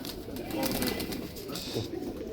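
A pigeon coos on a rooftop, its soft low calls repeating amid a busy background of ambient noise and murmuring.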